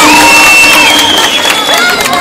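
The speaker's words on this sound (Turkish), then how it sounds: "Kocaman bir alkışla uğurluyoruz" Audience sends off dancers at a Turkish stage show with a loud, continuous wash of crowd cheering, whistles and shouts, with some applause mixed in throughout.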